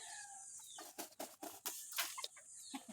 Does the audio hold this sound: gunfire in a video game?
no